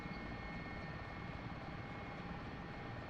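A Mi-8 helicopter engine in the flight sim DCS running at full throttle, a steady, loud, dense turbine roar with rotor throb, unbroken and alone.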